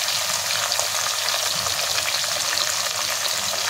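Grated beetroot and mixed vegetables sautéing with salt in a pan for pav bhaji give a steady, close, continuous sizzle with faint stirring scrapes and no talk.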